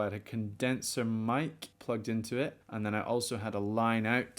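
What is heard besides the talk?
None of the usual background noises is heard.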